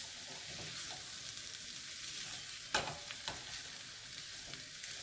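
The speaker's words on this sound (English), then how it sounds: "Stir that up to get the onion incorporated, and so that the onion doesn't just remain on the bottom and possibly burn." Chopped onion sizzles in a hot pan with a dense, steady hiss, and a utensil scrapes and stirs twice midway, close and without any talking.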